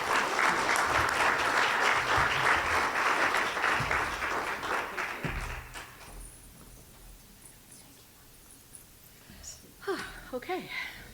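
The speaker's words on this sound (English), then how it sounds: "Round of applause, please." Audience applause at a chamber of commerce holiday luncheon, a loud burst of clapping that fades out after about five seconds, leaving quiet room noise and a few scattered sounds near the end.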